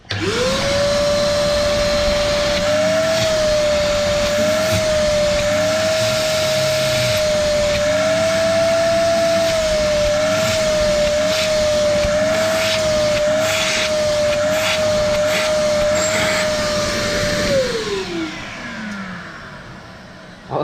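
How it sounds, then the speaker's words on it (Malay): A Daewoo 30L shop vacuum used for a sandblasting cabinet runs loud and steady with a high motor whine for about seventeen seconds, then spins down at the end. "Okay kan, kiranya vacuum ni memang power lah. Cuma dia bising lah."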